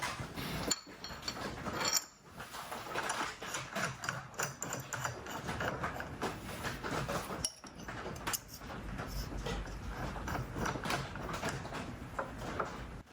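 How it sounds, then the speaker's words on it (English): Drawbar being tightened on a Bridgeport milling machine to pull an R8 collet closed around a tool bit, heard close in a workshop as a run of metallic clinks, ratcheting clicks and wrench clunks of varying loudness, without talking. "you tighten this drawbar up at the top, and that pulls that collet up and then tightens around the tool bit there"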